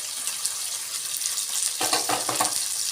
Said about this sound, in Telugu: ఇప్పుడు క్యారెట్ క్యారెట్ పీసెస్ ఆలుగడ్డ ఇవి వేసుకొని కలుపుకోవాలి